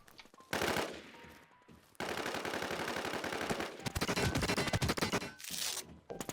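Rapid automatic gunfire from Call of Duty Warzone, loud and close, with sustained bursts crackling through most of the stretch and short pauses between volleys.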